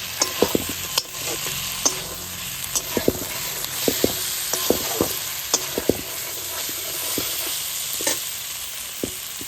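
Whole green chilies sautéing in spice paste for a prawn dum curry, a steady close sizzle broken by frequent scraping stirs of a spoon against the pan.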